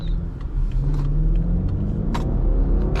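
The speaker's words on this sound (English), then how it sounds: "a BMW twin turbo V8 has such a unique sound" A 2017 BMW X5 xDrive50i SUV with a twin-turbo V8 accelerates hard, a loud, close, steady low rumble rising under throttle with no one speaking.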